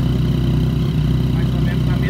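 A Yamaha MT-09 motorcycle with an aftermarket exhaust idles close by, a steady low rumble running throughout with faint background noise.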